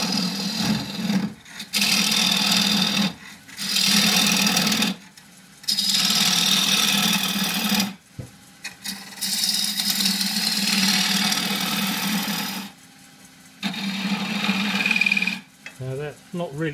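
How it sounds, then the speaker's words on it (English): Bowl gouge cutting a small cross-grain dish on a wood lathe, the tool's hiss and scrape coming in repeated passes of a few seconds each with brief pauses between, over the steady hum of the spinning lathe. "Use the same 3/8 quarter inch bowl gouge."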